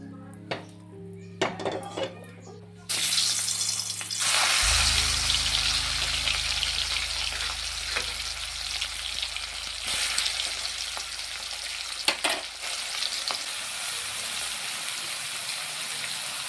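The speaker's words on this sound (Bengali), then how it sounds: "মাছটা যতক্ষণে ভাজা হবে" Fish frying in hot oil in a wok on a home stove, a loud steady sizzle that erupts after a few seconds of clatter and continues with occasional utensil clinks and scrapes.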